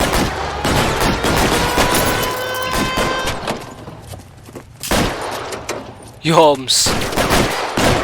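Rapid gunfire from an LA Noire video game shootout, with dense bursts of shots early on, a lull, then more sharp shots, under occasional speech from a player.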